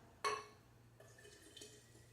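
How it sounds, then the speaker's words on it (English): Water filling a Bartesian cocktail machine bottle, a sharp splash at the start followed by a quieter trickling, gurgling flow. "So I'm going to fill up this bottle."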